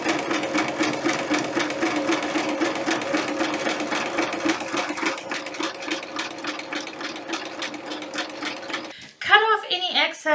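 Sewing machine stitching through old denim jeans fabric, a fast rapid-fire chatter of needle strokes running steadily for several seconds before stopping, followed by a few softer handling clicks and rustles.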